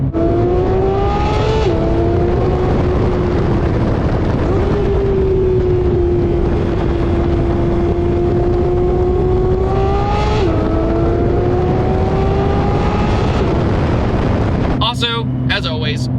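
A Porsche 911 GT3 of the 992 generation, with its 4.0-liter flat six and exhaust valves open, wails loud and close through long high-rpm pulls toward 9,000 RPM, pitch dipping briefly at shifts before climbing again.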